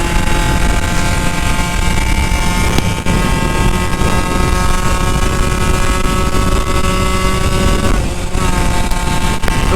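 A motorcycle engine drones steadily while riding, recorded close on a wide-angle action camera, with wind rush over the mic and engine revs that dip and recover once near the end.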